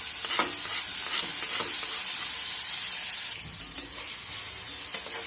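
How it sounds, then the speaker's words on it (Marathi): Tomatoes go into sautéed onions in a pan, a loud, dense sizzle with stirring scrapes that abruptly drops to a quieter crackle partway through, close and without talk. "आता आपण टोमॅटो टाकून घेऊया हे पहा"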